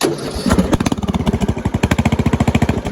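A riding mower engine is started with the key. After a short starter crank it catches into a loud, close, rapid regular putter that carries on steadily.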